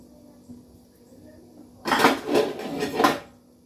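A ladle scooping pork and taro curry into a bowl, with three quick scraping clinks of utensil against pot in the second half after a quiet stretch.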